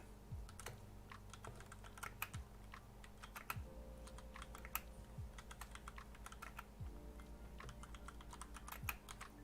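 Steady typing on a computer keyboard as a short post is written during a live stream, with quick irregular key clicks and occasional heavier strikes, close and clear throughout.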